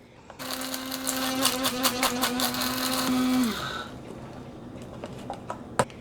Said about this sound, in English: I am gonna be using a coffee grinder because it's so easy to grind your spices in